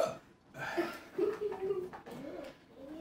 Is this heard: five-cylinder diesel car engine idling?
no